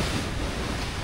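Sea waves wash against the shore at an abandoned beach resort in Cavite, a steady, close rush of surf mixed with wind noise and no pauses.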